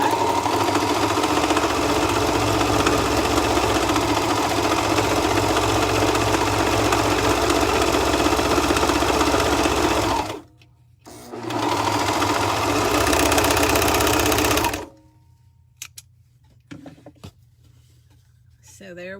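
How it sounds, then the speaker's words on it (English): A sewing machine stitches the bottom of a drawstring bag made from a shirt sleeve. It gives a loud, steady whir for about ten seconds, pauses briefly, runs again in a shorter burst, then stops, leaving a few faint clicks. "So now we're just going to sew the bottom"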